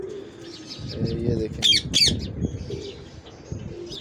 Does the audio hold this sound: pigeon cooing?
yes